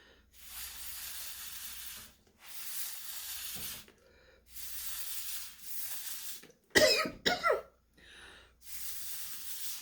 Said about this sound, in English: I cough with this sometimes.